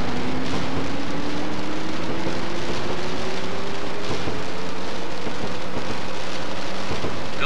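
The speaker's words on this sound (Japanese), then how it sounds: "あー雨だー、結構早い段階で雨来たな。" Steady rain patters inside the train simulator game Densha de GO! 3 over the low rumble of a train in motion, a dense, constant hiss with a faint rising tone and no voices.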